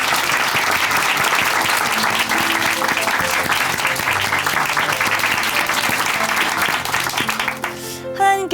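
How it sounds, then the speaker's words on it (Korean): A Christian TV testimony show's studio audience breaks into loud, sustained applause, dense clapping close up that fades near the end as music begins to enter. "박수를 함께 응원해 드리겠습니다"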